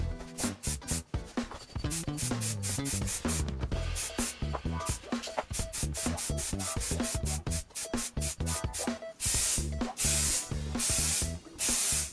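Aerosol can spraying a silver top coat onto an alloy wheel from a Mazda MX-5 NA, rapid repeated short hissing bursts, close and loud, ending in a few longer sustained sprays.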